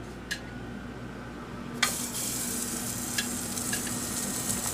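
Steady close sizzle of chipmunk wraps and bacon frying in hot oil, with a few sharp crackles and spits standing out against the continuous hiss.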